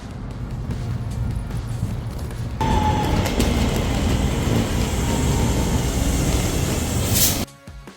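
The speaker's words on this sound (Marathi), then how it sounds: "हे बघा ही आपली ट्रेन आली आता मँचेस्टर एअरपोर्टसाठी चला निघूया" A train pulls into a station on the line bound for Manchester Airport, its loud rumbling and rolling rail noise rising abruptly partway through and holding steady before cutting off near the end, with no talking over it.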